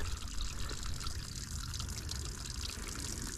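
Water trickles steadily into an almost full bottle on a rainy day in the Shenandoah mountains, a close, continuous, fairly quiet burbling flow with no talking.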